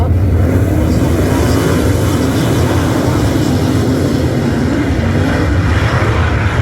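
Sprint cars racing wheel to wheel at Gas City I69 Speedway during Indiana Sprint Week. Their engines make a loud, continuous roaring drone that fills the whole stretch, with a faint announcer's voice underneath.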